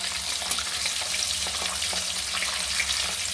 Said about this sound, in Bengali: এখানে মাছগুলো হালকা করে ভাজবো আমি।